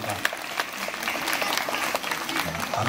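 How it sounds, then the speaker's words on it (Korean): Audience applause at a traditional Korean music performance featuring daegeum in Jeonju, a dense steady clapping from a sizeable crowd that continues throughout, with a little speech faintly mixed in. "여러분 다시 한번 박수 부탁드립니다."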